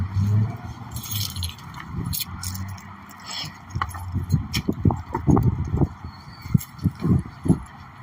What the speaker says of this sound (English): I didn't drop you that time, but I definitely dropped my keys